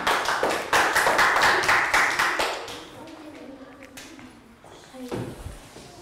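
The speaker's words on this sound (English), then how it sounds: "Can we have a round of applause?" A Year 3 maths class gives a short round of applause: a burst of quick, close claps that thins out after a couple of seconds into quieter room noise and faint voices.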